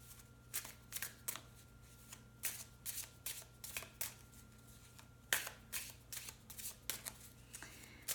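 Tarot cards being shuffled by hand at close range, repeated soft riffling bursts in an irregular rhythm over a faint low hum.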